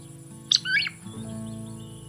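Groove-billed ani call in an urban setting, a short bright burst followed by a rough, warbling call lasting under a second, heard over a steady low hum of background noise.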